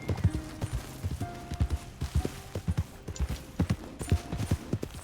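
Hooves clip-clop in a brisk, uneven rhythm of hard taps, with a horse snorting faintly between the steps in Red Dead Redemption 2; no one speaks.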